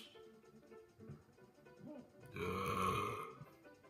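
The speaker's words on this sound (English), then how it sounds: "My burps are so hot." A single loud burp near the end of a short stretch, preceded by quieter throat and mouth noises during a Super Mario Maker 2 play session.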